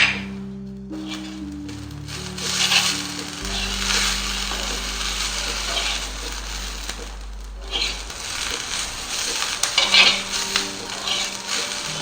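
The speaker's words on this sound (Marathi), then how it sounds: "थोडा वेळ ह्याला आपण भाजून देऊया." A ridge gourd masala mix with coriander leaves roasts in a dry pan, a low steady sizzle broken by spoon scrapes and clattering stirs, alone without voices.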